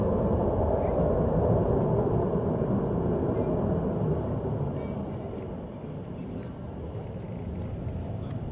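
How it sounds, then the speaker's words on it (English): An F-35 fighter jet roars low overhead on approach into Mildenhall, a loud broad rumble that slowly eases as it passes on into the distance, with voices faint beneath. "F-35 going into Milnhall."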